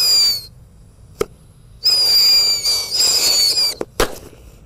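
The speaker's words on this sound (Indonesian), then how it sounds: "Selanjutnya kita nyalakan mercon tikusan Thor, warnanya kuning guys. Kita nyalakan satu pak di lubang tanah." A pack of yellow Thor firecrackers is set off in a hole in the ground, giving loud shrill whistling bursts broken by sharp pops and short gaps, all close by.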